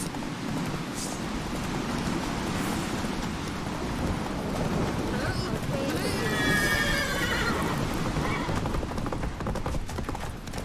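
Roach the horse gallops hard in The Witcher 3 video game, loud continuous hoofbeats, with a whinny rising partway through amid dense game sound and rumbling, stormy ambience.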